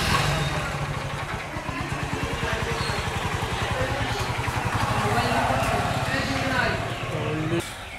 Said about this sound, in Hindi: उधर भाई आ रहा है उसका एक्सट्रीम लेकर